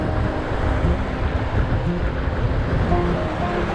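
Strong wind buffeting the microphone over a river estuary while waves wash and churn steadily, a loud continuous roar with no speech.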